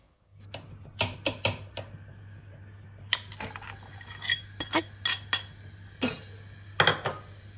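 A gas stove in a home kitchen being lit while tamarind and mint chutney is made: a run of sharp, close clicks and metallic clinks at irregular intervals over a low, steady hum.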